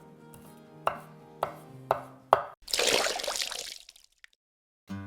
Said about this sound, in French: On va juste simplement hacher grossièrement